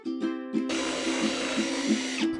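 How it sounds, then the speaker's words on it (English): A Milwaukee cordless drill fitted with a Forstner bit whirs in a few short bursts, then bites into driftwood with a sustained, loud grinding whine that stops abruptly near the end. "Forstner bit in my Milwaukee cordless drill, and we're gonna give it a shot"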